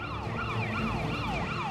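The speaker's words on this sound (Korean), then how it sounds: "동네에 웬 경찰차 한 대가 들어서는데" A police car siren arriving in a residential neighbourhood, a loud, close wailing tone sweeping repeatedly up and down, heard alone with traffic rumble beneath.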